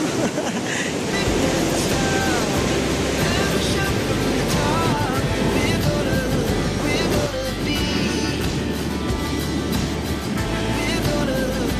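Ocean waves surge and wash continuously on a beach at Isla do Mel, Brazil, a dense, close rushing roar with warm water and steady surf and no pauses, while a breathy wind-like hiss runs underneath.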